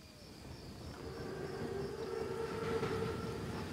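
Panzerzug armored train in a Call of Duty WWII game scene, a low steady rumble that builds gradually over a few seconds, with a long drawn-out tonal whine and faint high hum layered on top.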